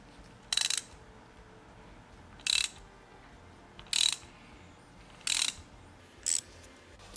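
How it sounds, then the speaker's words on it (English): A ratchet wrench driving a Lisle thread repair tap into a stripped 14mm spark plug hole, heard as five short clicking bursts of ratcheting, evenly spaced about every one to two seconds, close and fairly quiet over low background noise. "I wanted you to see how much effort it takes and how much ratcheting it takes to drive this tap all the way through"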